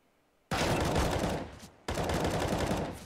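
Rapid gunfire rattles in a Counter-Strike match on the Train map, two loud, dense automatic bursts, the first starting sharply and fading, the second following after a brief gap.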